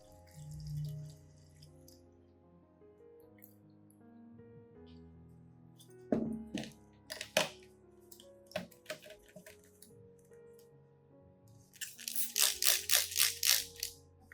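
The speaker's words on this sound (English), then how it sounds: "Here, I water anthurium." Water pours and drips onto an anthurium plant in a quiet garden, with sporadic close splashes and taps, then a quick burst of rapid splashy drips near the end.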